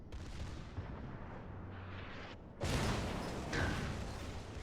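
Battleship shells boom and crash in World of Warships in a continuous heavy roar of naval gunfire, with a sharp louder blast partway through and another impact soon after, no voices.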